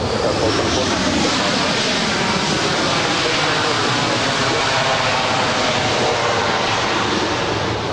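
A SkyWest Embraer E175 airliner arrives at Los Angeles International Airport, its jet engines making a loud, continuous, close roar that stays steady and swells slightly as it passes.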